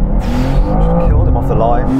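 A Ford Mustang V8 and a BMW M2 launch side by side in a drag race, their engines roaring loud and close in a rising rev, with people talking and shouting over the noise.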